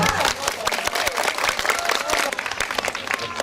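Applause from a crowd at a parish festival in Karlino, dense, steady clapping close by that holds throughout with a few louder individual claps.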